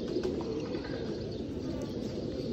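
A prel pigeon cooing among a breeder's birds in Gujrat, a continuous low, throaty murmur close by and fairly steady.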